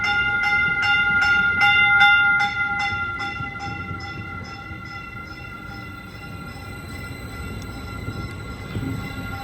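Caltrain local train 128 arriving at Redwood City station, with a run of rhythmic bell strikes from the crossing or locomotive that fade out over rolling train noise as it pulls in, no talk.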